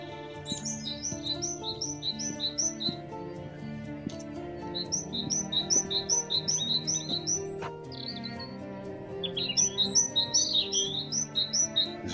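Birds call at Thurrock Thameside nature park, delivering repeated rapid series of high chirps that come in bursts over a steady low rumbling background.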